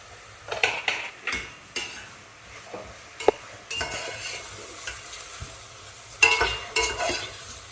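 Vegetables go into a pot for chicken stock and are stirred, producing a soft sizzle with irregular clinks and scrapes of a utensil against the pan. The sound is close and moderately quiet, with no one speaking.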